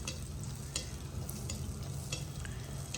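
Jaggery burelu batter balls frying in hot oil, a steady close sizzle with scattered crackles and pops, no voices.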